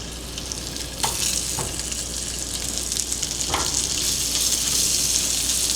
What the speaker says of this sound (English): I'm going to get to my grits because the water is boiling